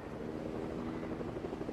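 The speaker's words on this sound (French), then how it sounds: "il y a un autre ennemi en hélicoptère" An enemy helicopter in Fortnite Battle Royale drones with a steady, continuous rotor thrum, fairly faint and distant, holding even throughout without talk.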